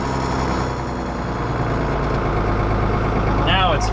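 Tractor idling with its PTO turning to drive the beaters of a manure spreader, a steady heavy low engine drone with mechanical whir, and a brief squealing sweep near the end.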